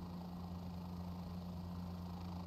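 Steady turbine whine and low rotor drone from a Bell 407 helicopter engine in Microsoft Flight Simulator 2020, a constant, even hum with strong low tones and no talk.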